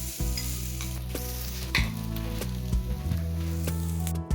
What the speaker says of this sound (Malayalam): അതിനകത്തോട്ട് നമ്മൾ ആ പൊടിച്ചു വെച്ച ചിക്കൻ അതിലോട്ട് ഇടുന്നു.